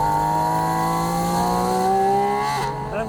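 A Porsche 718 Spyder RS flat-six revs up with exhaust and intake sound blending, a rising smooth tonal howl close by that climbs steadily before easing off near the end.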